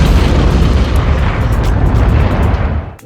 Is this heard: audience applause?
no